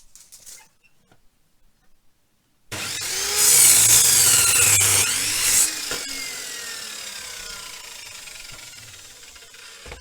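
A power saw cuts through a 2.4 metre timber sleeper into 1 metre lengths for a raised garden bed, a loud steady whine that starts abruptly after quiet, then eases into a lower, fading grind.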